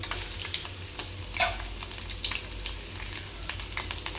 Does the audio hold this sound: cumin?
yes